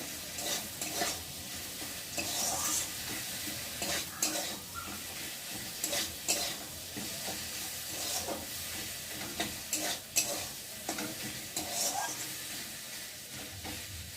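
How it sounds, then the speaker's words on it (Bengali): Mustard seeds frying in a pan while being stirred: a steady sizzle sits under repeated scraping stir strokes and light clinks from the pan, with no talk, through the whole stretch. "সর্ষেটা দিয়ে দেবো। একটু ভালো করে নাড়াচাড়া করে নেব।"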